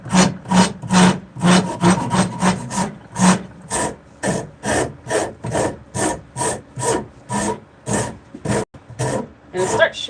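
A Japanese Shinto rasp shapes wood in rapid back-and-forth strokes, a dense run of loud, regular scraping bursts close up that continues steadily throughout.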